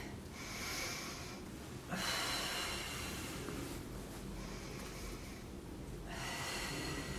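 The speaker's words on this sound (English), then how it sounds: "you definitely want to be taking big inhale, exhales" Deep breaths during a workout, heard up close as slow, breathy inhales and exhales in a steady cycle of about four long breaths, each a few seconds apart, with no voices.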